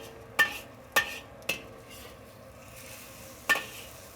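Metal spatula scraping and tossing beef and egg stir fry in a wok, four sharp clanks spaced irregularly over a faint steady sizzle.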